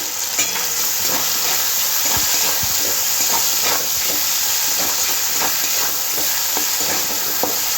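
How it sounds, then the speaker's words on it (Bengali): Chopped tomatoes with salt cooking in a pan for aar fish curry give a loud, steady sizzle and hiss, with scattered stirring clicks from a utensil against the pan throughout. "কেটে রাখা টমেটো টমেটো দেওয়ার সাথে সাথে একটু নুন দিয়ে দেবো"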